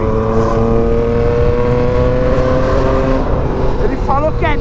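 A yellow Yamaha MT-09 motorcycle with a remapped ECU and an aftermarket exhaust holds a loud, steady engine drone up close, with some talk near the end.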